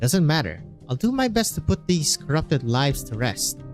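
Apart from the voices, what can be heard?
No everyday noise stands out behind the speech.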